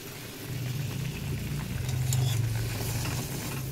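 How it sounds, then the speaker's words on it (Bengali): Eggplant pieces drop one at a time into a long-simmering poppy-seed gravy for begun posto, giving a steady close sizzle and bubbling with faint soft stirring and clinks, no talk. "এবার একটা একটা করে বেগুন ছেড়ে"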